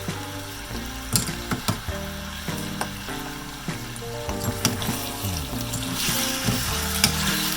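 Garlic and pork pieces sizzle strongly in a pan while they are stirred, the first step of caramel pork. The frying hiss is loud, with repeated utensil clatters and steady pitched tones running underneath.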